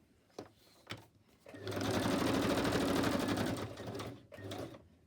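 A sewing machine stitches a tea-dipped printed image onto a journal page in one sustained close run of a couple of seconds, flanked by brief starts and stops.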